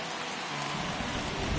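Rain pours on a baseball stadium in MLB The Show 21 as a dense, continuous hiss with a low rumble building underneath, fairly loud and without talk.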